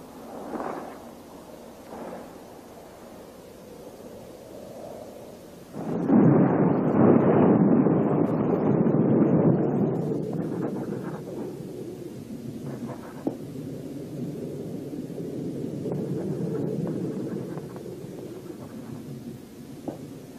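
Thunder from an approaching storm rolls in with a sudden loud crack and long rumble, fading into steady lower rumbling, with no voices.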